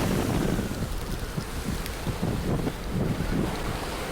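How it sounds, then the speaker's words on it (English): Storm wind buffets the microphone on an ocean rowing boat at sea, with waves rushing and crashing around the hull in a loud, continuous roar that surges in gusts. "It's blowing like it's unbelievable. It's pretty scary. Some big waves coming up behind me."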